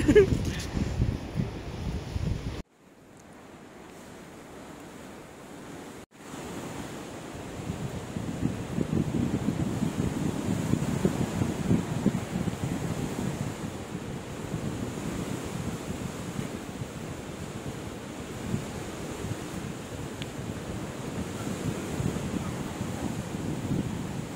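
Strong wind blows outdoors by the sea, a steady loud roar buffeting the microphone and broken by a brief drop partway through, with no voices over it.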